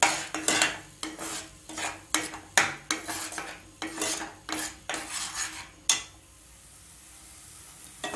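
Metal utensil scraping and clinking against a pan while almond halwa is stirred, thickening milk and ground almonds cooking down; a steady series of close, sharp scrapes and taps, ending in a quieter stretch with no talking.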